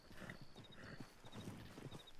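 A horse in the Red Dead Redemption 2 video game clip-clops with steady hoofbeats and gives short snorts and a whinny, heard close and alone without talking.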